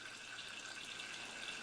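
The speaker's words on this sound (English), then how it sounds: "These very small, thin jets of water falling out of these hypodermic needles generates a charge." Very small, thin jets of water falling from hypodermic needles in a small thunderstorm-demonstration machine, a faint, even hiss of trickling water that runs unbroken throughout.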